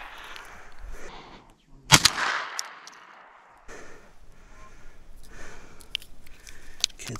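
A single loud, sharp gunshot rings out outdoors during a ptarmigan hunt in James Bay, fading into quiet wind and handling noise, with no talking.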